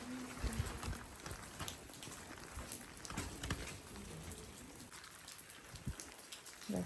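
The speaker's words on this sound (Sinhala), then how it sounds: "වැස්සක් වහිනවා" Rain falls steadily on the Sri Pada pilgrimage trail in cold December weather, a faint, continuous patter of drops with scattered soft taps on nearby surfaces.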